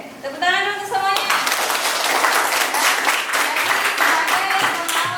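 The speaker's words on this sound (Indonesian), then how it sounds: "tepuk tangan dulu untuk semuanya" A classroom of students bursts into dense, loud applause, many hands clapping together steadily for several seconds after a brief spoken prompt from a teacher at the start.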